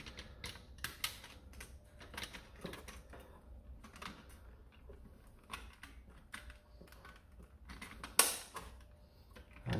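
Plastic parts of a Nerf Hammershot blaster click and clack as the cylinder is fitted back into the body, with quiet, scattered taps and one sharper snap near the end.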